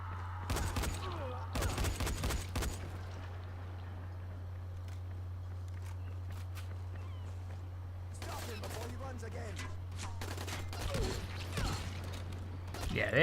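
Enemy gunfire in the Dying Light zombie video game: bursts of rapid shots in clusters over a steady low hum, with quieter mechanical clicks and footsteps between the volleys.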